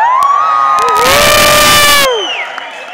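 A theater audience at a stand-up comedy show in Guarulhos shouts, whoops and cheers, a loud, dense crowd roar that swells in the middle and then eases off.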